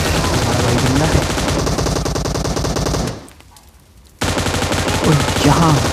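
Loud, dense M249 machine gun fire in PUBG Mobile, sustained rapid bursts that break off for about a second before resuming just as heavily.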